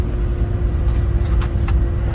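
A Land Rover Defender 110 engine held in second gear on a descent, giving a steady, close low rumble that carries through the whole stretch with slight swells and no talk over it.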